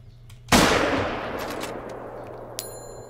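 A single loud rifle shot at an animal in the hunting game theHunter, a sharp blast followed by a long fading echo, then a faint ding near the end.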